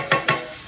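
Dirty rice ingredients sautéing in a pan for a New Orleans-style dish, with two quick stirring scrapes close by in a brief moment with no talking.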